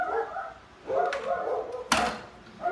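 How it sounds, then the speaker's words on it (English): Dogs barking and yipping indoors in a home, a few sharp barks and whimpers spread over about three seconds, fairly close and loud, with no talk. "My dogs are going mad."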